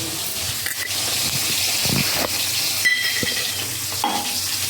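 Black cumin seeds tempered in hot oil in a pan where hilsa fish has just been fried, giving a loud, continuous sizzle with stirring scrapes and occasional clinks.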